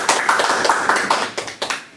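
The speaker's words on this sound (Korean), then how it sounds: "일단 우리 자축에 박수 한번 보내시죠." A small group clapping at a cooperative's briefing, brisk uneven applause of a few people close by, fading out after about two seconds with no speech over it.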